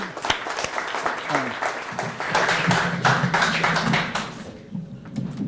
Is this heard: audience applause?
yes